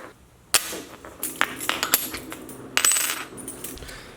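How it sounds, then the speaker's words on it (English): Metal keys being worked off a keychain, a sharp clink followed by a run of jangling, scraping metallic clicks and another bright clatter near the end, close and clear. "Time to take my keys off the keychain."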